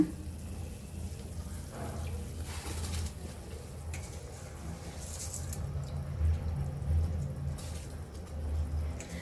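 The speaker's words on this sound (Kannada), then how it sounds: "ನೀರು ಕುದಿತಾ ಇದೆ ಈಗ ಅಕ್ಕಿ ಹಾಕೋಣ" Water at a rolling boil in a cooking pot as rice goes in for vegetable pulao, a steady close bubbling hiss and churn that runs throughout with no talking.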